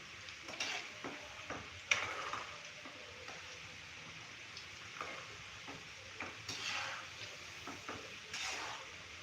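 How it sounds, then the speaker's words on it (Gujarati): French fries deep-frying in hot oil over a raised gas flame, a soft continuous bubbling sizzle at moderate distance with occasional faint clinks and stirs, no talk. "ફ્રેન્ચ ફ્રાઈને પણ આપણે એકદમ સરસ ક્રિસ્પી એવી તળી લેશું."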